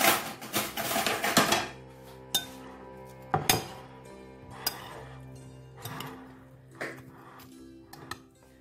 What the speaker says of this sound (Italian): diamo una girata